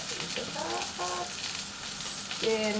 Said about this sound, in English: if you hear sizzles, it's because I'm simultaneously cooking a tomahawk steak